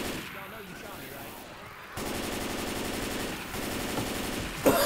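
Video game gunfire in rapid automatic bursts, dense and loud, with a sharper crack near the end and players' voices mixed faintly in the background.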